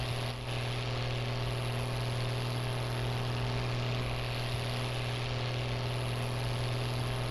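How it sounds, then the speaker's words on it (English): A tractor engine idles steadily in the farming video game Farming Simulator 19, a constant droning hum with no variation and no talk. "Gonna sound a little weird with the way the sound is on this tractor."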